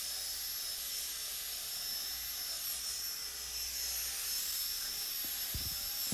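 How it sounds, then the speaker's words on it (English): A high-pitched electric whine runs continuously at low volume, like a small drill motor spinning, with a faint scrubbing hiss underneath as a gentle drill brush scrubs a Renault Megane Scenic car interior. "now the infamous drill brush with a very gentle brush on it"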